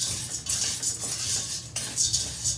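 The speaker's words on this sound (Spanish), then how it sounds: "Ya lo revolvemos y vemos cómo quedó" A utensil scrapes and clinks against a pot or bowl while pistachio pesto pasta with parmesan is stirred, a steady close metallic tapping and scraping with no talk.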